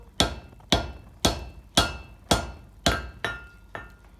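Hammer blows on leaf spring steel forged into a spear head, necking in the base over the round horn of an anvil: eight sharp, ringing strikes at a steady rhythm, close and loud, with no talk.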